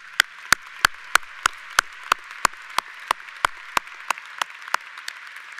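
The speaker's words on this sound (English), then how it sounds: "That's worth a round of applause." At a Nichols College undergraduate commencement, applause for the graduating class comes through as a single, evenly spaced run of crisp, close hand claps, about three per second in a steady metronomic beat over quiet room tone.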